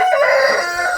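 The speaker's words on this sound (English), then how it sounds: "we just let our chickens" Free-range farm chickens cluck loudly and close by, with a rooster's crow running through the short stretch and no talking over it.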